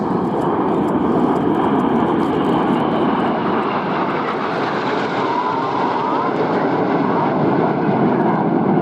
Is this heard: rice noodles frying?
no